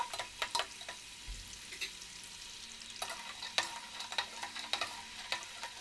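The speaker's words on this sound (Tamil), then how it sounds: "2 பக்கமும் நல்லா கோல்டன் ப்ரௌன் கலரில் வர அளவுக்கு ஃப்ரை பண்ணி எடுத்துடணும்." Crispy semolina snacks fry in oil with a soft, fairly quiet sizzle, punctuated by clusters of light clicks and taps from turning them in the pan.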